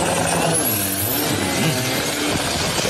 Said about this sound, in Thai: เขาเอาเครื่องดีเซลมาใส่นะครับ เครื่องรถยนต์เหรอ